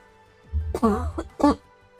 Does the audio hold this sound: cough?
yes